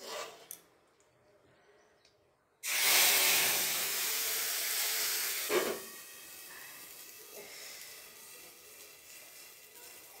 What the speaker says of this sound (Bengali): মশলাটা দিলে পুরো তেলের ছেঁকাটা উপরে উঠে যায়